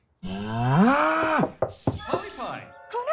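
A cartoon cow gives one long, loud, rising moo, followed by a few short vocal bursts and clatter.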